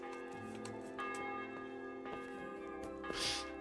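Church bells in Kingdom Come: Deliverance strike in slow succession, each stroke ringing out with a long sustained hum, moderately loud with no voices.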